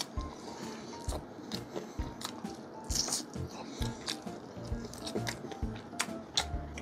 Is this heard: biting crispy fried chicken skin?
yes